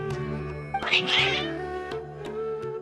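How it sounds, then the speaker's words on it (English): Cats in Genshin Impact give agitated, whining meows, with one louder, rising cry near the start and fainter calls after, set against a steady tonal background. "Your cats seem pretty worked up."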